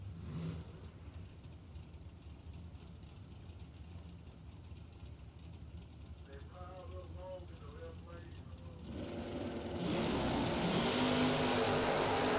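A Camaro convertible drag racer at a doorslammer drag racing event roars past, a steady engine drone from a distance that swells into a loud, close rush near the end.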